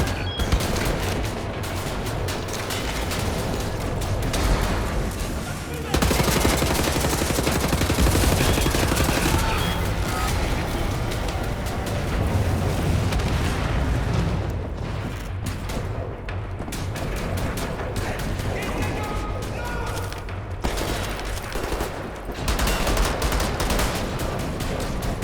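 Sustained bursts of video game gunfire, dense and loud, with reloads implied by brief pauses, continuing steadily for the whole stretch without speech on top.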